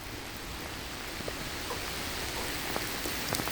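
Steady rain falls outdoors in Batley, UK, a dense, even hiss of drops on surfaces with a few sharper individual splashes, close and continuous with no voices.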